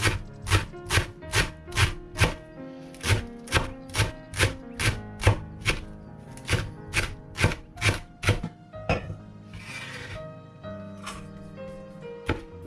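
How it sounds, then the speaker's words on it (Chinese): Soaked wood ear mushrooms being minced with a knife on a board, a rapid run of sharp, loud, evenly spaced chops close up, pausing briefly before a few final strokes. "泡好的木耳剁碎之后"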